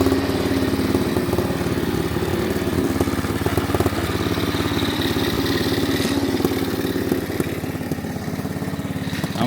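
A Honda Trail 70 motorcycle engine runs steadily outdoors in cold, snowy weather, a loud continuous idle with a rough, pulsing low-pitched throb throughout and no talking.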